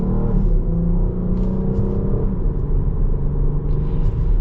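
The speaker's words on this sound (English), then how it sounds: "we're gonna get our acceleration here." Engine and road rumble from inside a 2021 Jeep Cherokee 80th Anniversary Edition accelerating in traffic, a steady loud low drone with a faintly rising hum and no talk.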